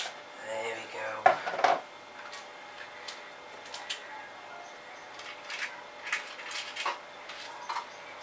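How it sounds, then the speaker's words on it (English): A spatula spreads a Halloween tray bake mixture in a baking tray, giving light taps, clicks and soft scrapes with one louder knock near the start. "So make sure we spread it out nicely with the spatula."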